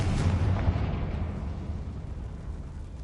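Confringo fire spell explosion in Hogwarts Legacy: a single deep boom at the start that rolls off into a long, fading low rumble.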